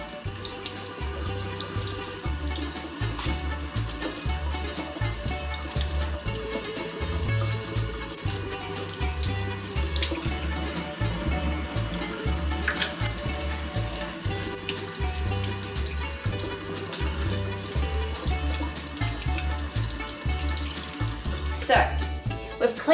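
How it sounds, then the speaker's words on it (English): Tap water runs steadily into a kitchen sink while a quail is rinsed and cleaned by hand, a continuous close splashing with shifting flow and small clatters, lasting throughout with no speech. "I'm just going to go over to the water and just start rinsing and cleaning."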